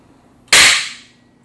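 Hydrogen HHO gas from a generator ignites in a single sharp, loud bang that cuts in suddenly and fades over about half a second, alone against near silence.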